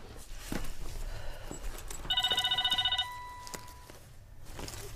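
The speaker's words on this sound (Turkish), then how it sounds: "Telefon." A telephone bell rings in one short burst of rapid trilling, faint and indoors, set against quiet room background.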